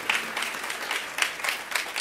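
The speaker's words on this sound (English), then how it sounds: "I want to give a round of applause to the pianist who kept up with the choir." An audience applauds a pianist who accompanied a choir at a Martin Luther King Jr. celebration event, steady dense clapping filling the room at moderate loudness with no talk over it.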